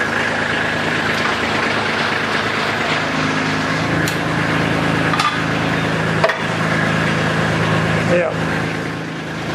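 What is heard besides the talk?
compact tractor engine running, lifting rear blade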